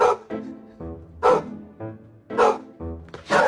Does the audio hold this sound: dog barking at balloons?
yes